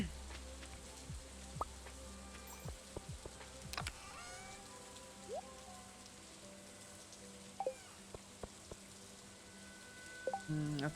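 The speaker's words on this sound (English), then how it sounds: "I can hear that it's raining outside" Rain falls outside, heard from down in a basement as a faint, steady patter and hiss, joined by occasional soft clicks and a few brief tonal chirps.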